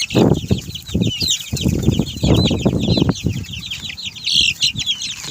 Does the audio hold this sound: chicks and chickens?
yes